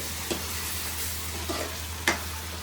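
Prawns, boiled eggs and gongura curry being stirred in a pan: a low steady sizzle with a few soft scraping strokes of the spoon, three or four light taps spaced across the moment.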